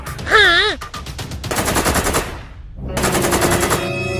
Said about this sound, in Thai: อุ้ยเดี๋ยวมันยิงใส่เรา